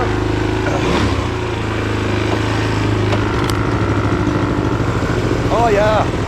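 A Honda ATC200S ATV idles and putters after starting on the first pull, a steady close engine drone with a faint rev near the end, while people talk over it.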